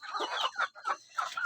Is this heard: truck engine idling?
no